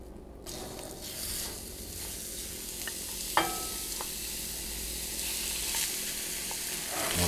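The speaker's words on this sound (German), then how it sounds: "Und dann geben wir mal das Rinderhack hinzu." Ground beef sizzles steadily in hot oil in a pan, cooked for chili, with a spoon scraping and stirring through it and one sharp clink midway, with no talking.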